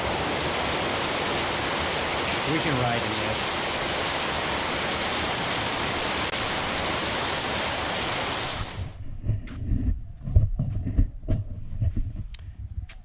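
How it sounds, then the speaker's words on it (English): Steady, dense hiss of rain fills most of the recording, then cuts off abruptly, leaving a person speaking briefly over quieter background. "a little rain."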